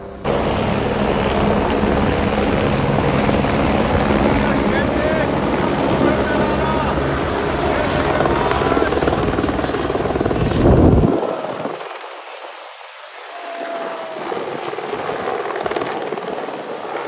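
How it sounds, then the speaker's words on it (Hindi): Helicopters fly around Kedarnath in the Himalayas, a loud continuous rotor drone filling the air for about ten seconds before cutting off abruptly, leaving a quieter stretch with a fainter engine hum and voices. "चारों तरफ से हेलीकॉप्टर्स की आवाज़।"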